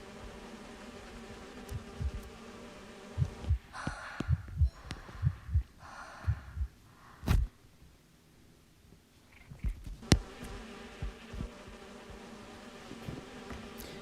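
Swarming bees buzz in the Identity V video game, a faint steady insect drone broken by bursts of soft thudding game effects and a few sharp clicks.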